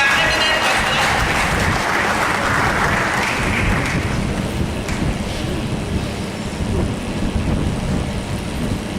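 An audience applauds eminent guests at an academic gathering: sustained, dense clapping that stays steady and then eases slightly toward the end.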